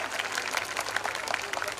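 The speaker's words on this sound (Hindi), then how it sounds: "माननीय श्री भूपेंद्र भैया का एक और बारी तालियों के साथ स्वागत किया जाएगा" Audience at the Rohila festival applauding to welcome a guest, a brief, steady patter of many hands clapping at moderate distance.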